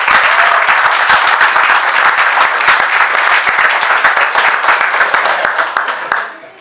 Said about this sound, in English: So nice little clap for Paul and Ewan there.